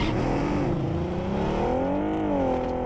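A vehicle in PUBG Mobile droning and revving as it pulls away, a steady engine whine rising and falling in pitch over a few seconds, moderately loud with no voices.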